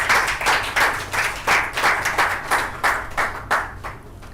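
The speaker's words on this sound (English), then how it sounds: "Perhaps you can give everyone in Indian Cancer Society a big round of applause." Audience applause at an Indian Cancer Society mobile app launch event: rhythmic, fairly synchronized clapping bursts repeating about twice per second, moderately loud and steady, with no speech.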